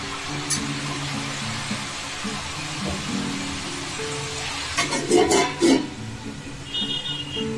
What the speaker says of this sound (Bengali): ভালো করে নেড়ে দিয়ে ঢাকা দিয়ে রান্না করছি